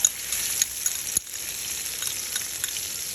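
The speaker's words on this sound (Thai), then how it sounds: "ผัดพริกกระเทียมไปเรื่อยๆ จนมีกลิ่นหอมนะครับ" Steady oily sizzling of chili and garlic frying in a hot wok, with faint scraping of stirring now and then, close and continuous with no voices.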